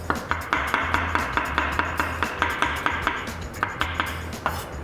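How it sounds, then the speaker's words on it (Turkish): A knife chops mushrooms on a board in quick, regular strokes, about three or four taps per second, crisp and close, with a low kitchen hum beneath and no talking. "Hemen mantarlarımızı doğrayalım."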